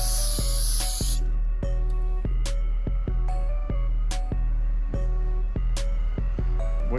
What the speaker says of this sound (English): Spray it and soak it real good.